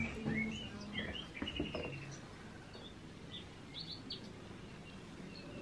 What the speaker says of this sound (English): Nice with the little bird noises as well.